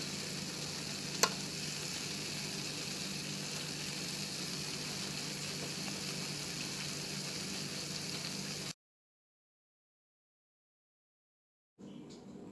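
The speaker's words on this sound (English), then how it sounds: "this aroma coming from the plantains frying" Green and ripe plantains sizzle and crackle steadily in hot oil, a constant frying hiss that cuts out abruptly, then returns briefly at the end.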